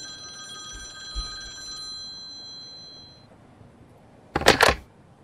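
A telephone in the video game The Quiet Asylum rings in a loud, brief electronic burst near the end, after a quiet stretch of steady tonal hum.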